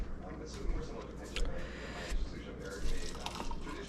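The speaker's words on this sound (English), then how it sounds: "I need to pour this out." Hot liquid tipped out of a plastic cup in a home kitchen during breakfast burrito prep: faint dripping and splashing in short bursts over steady background noise.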